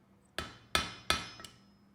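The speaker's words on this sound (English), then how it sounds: "so I'm hammering. It makes it more even." A hammer strikes metal during blacksmith forging of a heart shape: three loud, ringing blows at an even pace, then a lighter fourth tap, close by with no talking.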